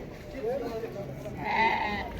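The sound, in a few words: goats bleating at a livestock market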